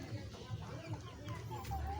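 Village hens, mother hens gathered for sale at market, cluck in short repeated bursts close by, with a steady low murmur of other birds underneath.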